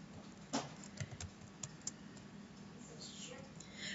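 A few light, irregular computer keyboard clicks sound close by, followed by quiet room noise and faint soft movement.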